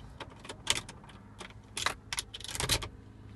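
A key goes into the ignition of a 2014 Toyota Corolla, a series of close, quiet metallic jingles and clicks from the key ring in short irregular bursts.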